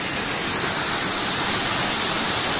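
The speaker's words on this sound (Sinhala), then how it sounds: "මේ තියෙන රුක්මල් ඇල්ල." Rukmal waterfall on the Dedugala–Bulathkopitiya road, a dense, continuous rushing roar of falling water close by, steady and unbroken with no voices.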